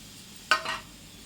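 A tomato drops into a hot pan of vegetable upma and sets off a sudden short sizzle. The hiss flares sharply, then fades within a fraction of a second over quiet background.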